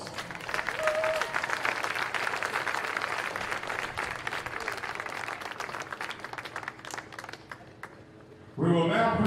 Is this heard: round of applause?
yes